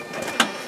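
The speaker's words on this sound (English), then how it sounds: "So down here we have our big old Lexmark printer. Let's print a label sheet," A large Lexmark printer running off a sheet of labels, a brief mechanical whir with one short louder burst midway, fairly close and with no voices.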